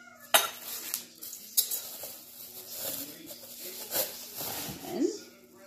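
Metal tools from a shiny Murries Place cocktail bar set, including a three-piece shaker and strainer, clink and tap together in several sharp bright knocks close by, with a voice speaking between them.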